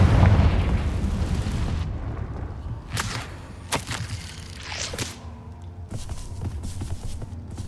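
A Confringo fire spell explodes in Hogwarts Legacy, a few sharp booming blasts in quick succession after a dense rumbling start, fairly loud, with no one talking.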